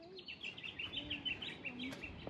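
Ducks and other birds at Tidbinbilla Nature Reserve in the ACT, giving repeated small chirps and calls at moderate distance over faint background noise, with a voice briefly audible.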